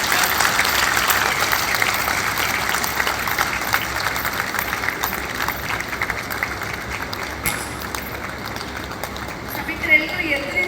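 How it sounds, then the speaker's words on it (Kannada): An audience in a lecture hall applauds at the end of a talk, with dense, sustained clapping that holds steady for about ten seconds and carries some voices mixed in before it thins out. "ಸಭಿಕರೆಲ್ಲರೂ ಎದುರಿಂದ ಚಪ್ಪಾಳೆ ತರ್ತಾ ಇದ್ದಾರೆ ಸರ್."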